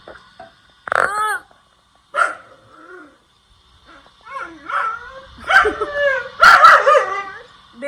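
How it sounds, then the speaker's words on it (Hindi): In a countryside home, a dog gives a string of whiny, warbling vocalizations that rise and fall like talking instead of barking, short bursts with pauses between them, close and clear. "ये भौंकती नहीं है, बात करती है।"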